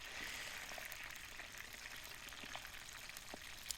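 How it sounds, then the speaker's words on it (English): Two kole fish fry in a pan over an outdoor fire on a rainy day on the Big Island, a faint, steady sizzle with soft scattered pops, heard alone. "we have our two kole that we're frying up"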